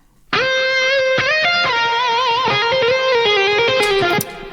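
A sustained electric guitar line with long ringing notes and slight pitch bends, washed in echoing repeats and reverb that trail off at the end.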